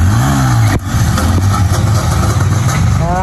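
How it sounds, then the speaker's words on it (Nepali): A motorcycle engine revs loudly and close by during a wheelie test ride at a stunt school, with rising throttle pitch, a brief dip, and then a sustained high-rpm drone. "अब नन्की भाइको बाइकमा टेस्ट राइड हान्नेछु है"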